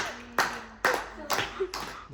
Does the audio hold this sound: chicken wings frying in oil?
no